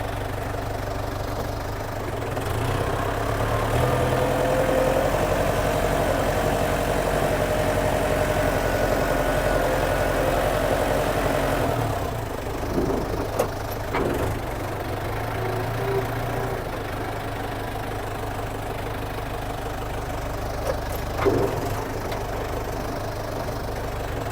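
A Yanmar M7040 tractor's engine idles steadily at close range for the whole stretch, a continuous low rumble with faint knocking and a few small clanks, without any speech.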